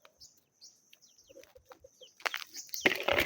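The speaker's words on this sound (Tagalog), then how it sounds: "May isang manok doon." A single chicken clucks in short, soft bursts near a rural farm field, with small bird chirps mixed in before louder rustling and handling noise takes over toward the end.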